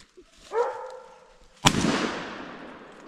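A gunshot cracks out during a nighttime raccoon hunt, one sharp loud report with a long rolling echo after a hound's short bark, heard outdoors at middle distance.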